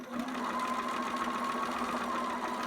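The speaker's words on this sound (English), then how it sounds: "Back stitch. And then forward again." A sewing machine back stitches on a newborn romper, a steady close, continuous motor whir with a faint rhythmic needle patter running the whole time, no talking.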